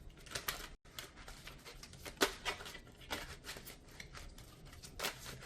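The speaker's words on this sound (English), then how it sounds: "It's like a stickier shuffle. These cards are a little stuck." A deck of tarot cards being shuffled by hand, faint close-up riffling and soft irregular slaps of cards, a somewhat sticky, uneven shuffle heard alone.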